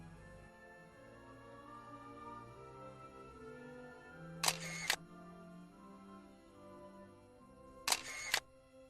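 An SLR camera shutter fires twice at a faster speed, each release a sharp, short mechanical clack, separated by a few seconds over a quiet room hum.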